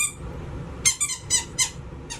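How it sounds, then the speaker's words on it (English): A squeaky dog toy squeezed during grooming of an aggressive dog gives about five short, bright, high squeaks in an uneven rhythm over a low background rumble. "Let me get my squeaky toy so I can kind of check this out."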